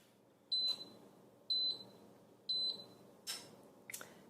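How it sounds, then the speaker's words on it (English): A Cuisinart GR-300WS Griddler Elite timer beeps in three evenly spaced bursts about a second apart, followed by a couple of weaker blips, clear and close in a quiet kitchen. "So there we have it, our timer."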